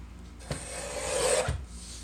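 A single rasping cut through the edge of printed paper, a dry scraping stroke lasting about a second, bracketed by two soft knocks, with no talking.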